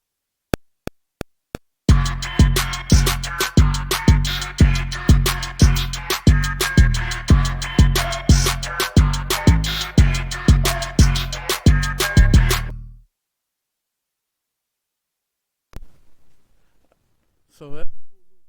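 A full drum beat loop opens with a few sharp count-in clicks, then plays a steady, punchy groove for about eleven seconds and cuts off. Silence follows, with faint brief sounds near the end.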